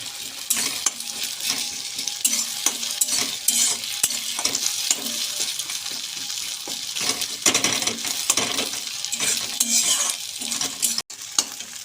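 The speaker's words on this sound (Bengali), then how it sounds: "জিরে গুঁড়ো দেওয়া হয়ে গেল, এবার হালকা নেড়ে দেবো।" Egg bhujia being stirred in a pan after cumin powder goes in, with a bright continuous sizzle and repeated close scraping and clinking of a utensil against the pan, one brief dropout near the end.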